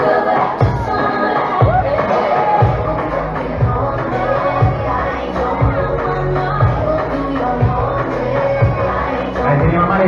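Spectators at the finish line of the Meliana 7K road race clap and shout as runners arrive, a busy, continuous crowd noise with scattered whoops and voices rising and falling throughout.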